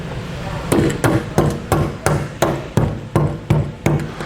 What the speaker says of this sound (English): we're just going to use a rubber mallet to assist us getting this into position.